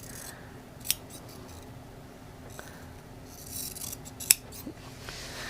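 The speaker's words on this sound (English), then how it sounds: "I'm going to trim the seam allowance" Scissors trim the fabric seam allowance on a tote bag, a few quiet snips and rustles with two sharper cuts standing out over a low steady background hum.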